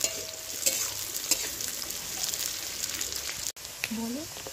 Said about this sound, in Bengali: তো তেলের ওপরে পেঁয়াজ ছেড়ে দিয়েছে।